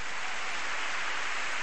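Church congregation applause at a gospel service, a brief, even wash of many hands clapping, steady and moderately distant.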